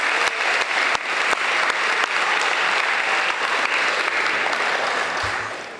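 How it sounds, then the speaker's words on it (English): Sustained applause from a crowd at a school athletic assembly, dense clapping that holds steady for several seconds before tapering slightly at the end. "Little round of applause"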